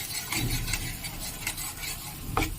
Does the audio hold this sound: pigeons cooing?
no